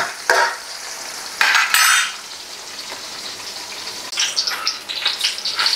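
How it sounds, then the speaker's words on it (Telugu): Chopped onion and four green chilies frying in a pan for a fish curry, with a sizzling hiss under repeated close stirring and scraping of a utensil, loud bursts interrupting a steady fry. "ఒక చిన్న ఉల్లిపాయ, పచ్చిమిరపకాయ ఒక 4. ఇవి కొంచెం మగ్గనిద్దాం."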